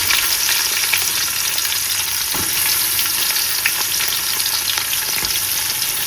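Chopped onion frying in hot oil with whole spices for biryani, a loud, close, continuous sizzle and crackle with a few soft scrapes of stirring.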